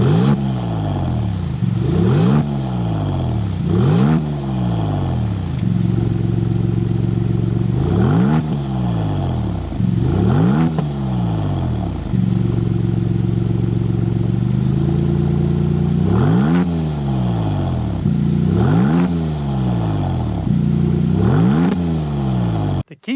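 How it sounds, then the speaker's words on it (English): 2025 Maserati MC20 Cielo engine revved repeatedly, a series of loud, close exhaust blips that rise and fall sharply in pitch between steady idle stretches, about nine bursts over twenty seconds. "We need to go inside, start it up so you can hear that exhaust note."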